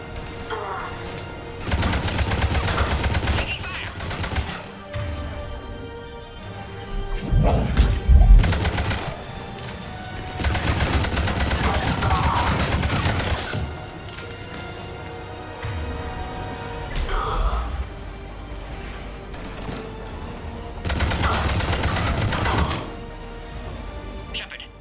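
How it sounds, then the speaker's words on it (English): Bursts of automatic gunfire in the sci-fi shooter game Mass Effect 3, arriving in loud sustained volleys separated by short lulls, with a heavier impact near the middle, all under game voice lines and background noise. "Taking fire."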